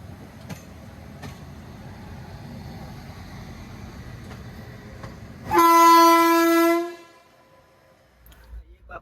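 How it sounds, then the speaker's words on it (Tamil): The Andaman Express passenger train rumbles along with a steady clatter, then a loud, sustained horn blast sounds for about a second and a half before the rolling noise returns, quieter. "Just relax and enjoy the train right."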